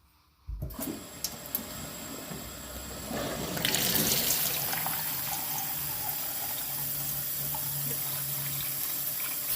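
A kitchen water ionizer machine dispenses pH 9.5 alkaline water, a steady running stream that starts after a click and builds to a constant flow for several seconds, close and fairly loud.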